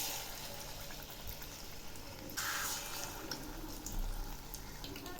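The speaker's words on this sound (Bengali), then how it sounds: "তেল গরম হয়ে গেছে, এবার আমি ছেড়ে দিচ্ছি।" Bok flower fritters are dropped into hot oil in a kadai, giving a continuous soft, hissing fry with a brief brighter surge partway through.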